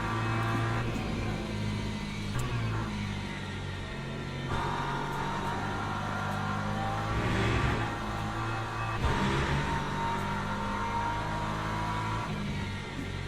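Hypercar engines droning steadily in the Le Mans Ultimate racing game, a continuous layered whine of several cars with slight swells as they pass, fairly faint and unbroken throughout, no talk.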